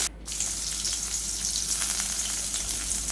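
Three large chopped onions, added to hot oil with mustard seeds and urad dal for a mixed-vegetable kuzhambu, give off a loud, close, continuous sizzle, with faint stirring underneath.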